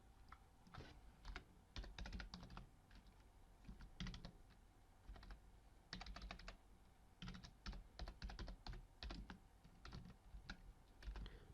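Typing on a computer keyboard in short irregular bursts of close, crisp key clicks with brief pauses between runs, no voices.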